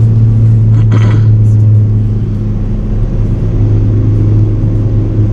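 A Skoda Fabia 1.9 TDI diesel tuned to stage 2 with an upgraded turbo pulls hard from inside the cabin, its steady low engine drone and road rumble loud and continuous, with a brief rattle near the start.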